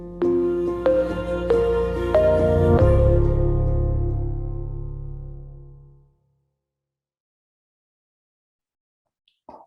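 A short brand sound logo melody built on a single repeated note with a partnership leitmotif: bright struck tones over a warm sustained bed, a few clear hits in the first three seconds, then a long fade to silence.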